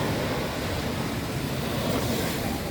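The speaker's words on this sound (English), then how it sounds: "we're at the Laborie beach right now" Surf washing in steadily at Laborie beach, a continuous broadband rush of breaking waves with some wind noise on the microphone, no voices.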